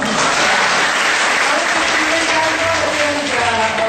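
A talk show audience applauds, dense continuous clapping at close range that stays loud and even throughout, with faint voices mixed in.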